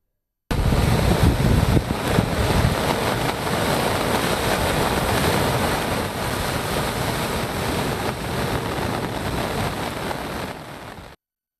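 Rough sea waves crash on the shore at Samiyarpettai village in Tamil Nadu under a cyclone red alert, a loud continuous roar of surf with heavy wind noise buffeting the microphone.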